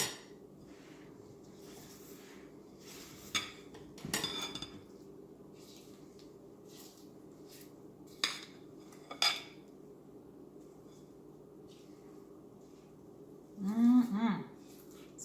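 A spatula scrapes and taps against a metal baking pan while almond joy brownie batter with chocolate, almonds and coconut is spread, giving a few sharp clinks and soft scraping strokes over quiet room tone.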